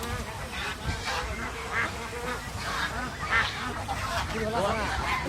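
A crowd of ducks and geese, including Peking ducks, quack and honk continuously nearby at the Chandaikona market, with people talking in the background amid the bustle.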